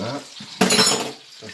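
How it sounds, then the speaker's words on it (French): Green peppercorns drained under a running kitchen tap, a burst of splashing water against a sieve and sink that starts abruptly mid-clip and fades after about half a second, with quieter clatter before and after. "Je vais aller égoutter"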